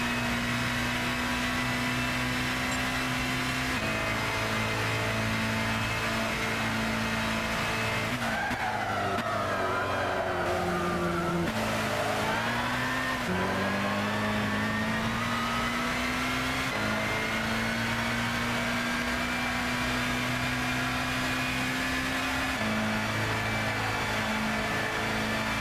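In Gran Turismo 6, a Zytek Z11SN race car's engine holds a sustained, whining drone with its pitch sliding down and back up through gear changes and braking midway, with some tire squeal, steady and close throughout.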